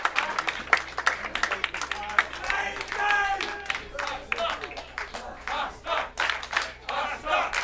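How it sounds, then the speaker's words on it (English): Crowd cheering and clapping at an amateur wrestling show, rising and falling roars with scattered claps, while a commentator talks over it. "the crowd firing up again, appreciative of the efforts"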